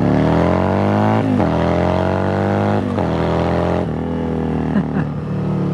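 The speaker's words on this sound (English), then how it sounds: "Let's pull out onto the road and give it some beans. This is a V-twin." A custom 1980s Yamaha Virago V-twin motorcycle pulls onto the road and accelerates hard. Its loud, steady engine drone climbs in pitch through each gear, dips briefly at the shifts, then keeps rising, heard close and without pause.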